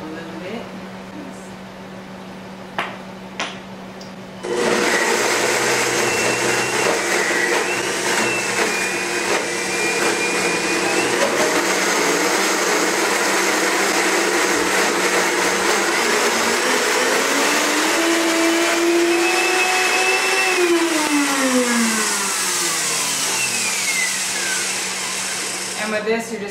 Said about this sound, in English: We're using the Blendtec today, but you could use the food processor.